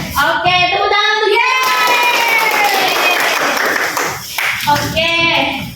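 Clapping in a classroom during a micro-teaching lesson, with a group of students clapping in a quick burst under loud voices and chatter. Speech sits on top of the clapping for much of the time.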